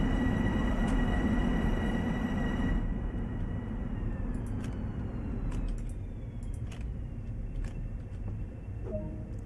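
A Long Island commuter train in Train Sim World rumbles steadily with a continuous low roar and whine, a few faint clicks and tones over it, no talk.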